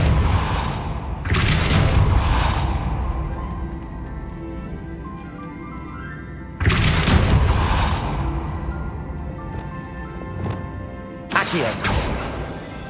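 A Depulso spell in Hogwarts Legacy fires three times, each a loud, close whooshing boom that rumbles and fades over a couple of seconds, spaced roughly five seconds apart.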